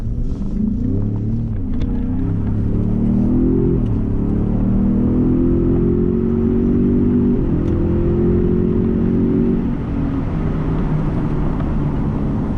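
A 2017-18 Ford F-150 Raptor pickup drives in Sport Plus mode with a continuous low engine rumble that swells and climbs slightly in pitch as it pulls along a small road.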